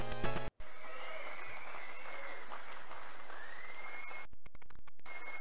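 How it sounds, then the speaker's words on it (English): Glitching crowd noise from an emulated video game, a steady stadium crowd roar and cheering that cuts out abruptly at the start and stutters into chopped, broken bursts near the end. "The crowd noise will glitch when the screen fades out."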